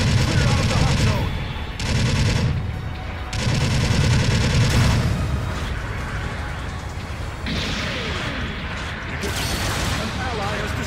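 Long-range supporting fire rains down in Gundam Battle Operation 2, with loud repeated bursts of gunfire and explosions in clustered volleys that give way to a quieter rumble, while voices speak over it.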